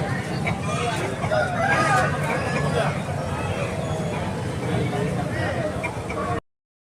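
A healthy, aggressive country rooster crows at a busy village chicken market in Eluru, loud and close over a steady hubbub of vendors and buyers talking and other fowl clucking in the background.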